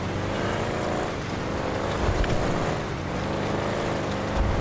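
A car speeding in GTA during a roleplay drive, its engine roaring steadily and loudly with continuous road and wind rush and no pauses.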